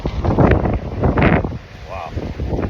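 Strong outdoor wind buffets the microphone in loud, rumbling gusts, with someone talking over it.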